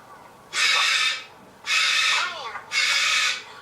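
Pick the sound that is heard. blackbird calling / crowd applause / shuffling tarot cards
blackbird calling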